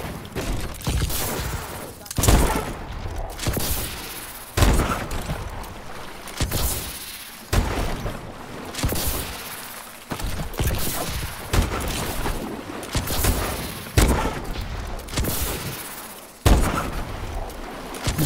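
Sniper rifle gunfire in Call of Duty Advanced Warfare, sniper-only match: loud sharp shots recur every few seconds amid game noise and effects, with players talking over the action.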